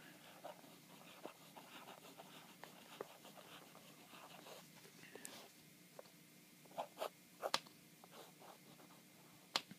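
A Pelikan 400 fountain pen with a smooth medium nib scratches softly across paper in faint, close strokes, with a few sharper ticks and rustles near the end.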